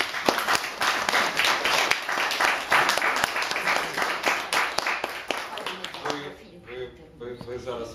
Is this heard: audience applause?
yes